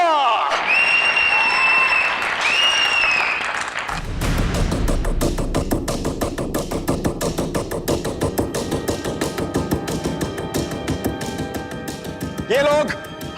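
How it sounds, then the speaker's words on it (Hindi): An audience bursts into loud, sustained applause to welcome a father-daughter aerial acrobat duo, dense clapping with crowd noise following a brief stretch of voices and music. "तो तालियों से स्वागत कीजिए शिशिर"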